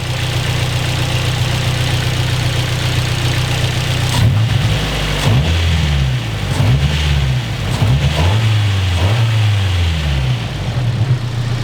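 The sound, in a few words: car engine revving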